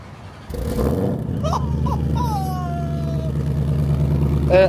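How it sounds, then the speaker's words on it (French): A car engine is started remotely with a key fob, and a low steady idle rumble settles in after a brief start. People talk and make exclamations over the running engine. "Tu allumes le moteur sans être dans la voiture."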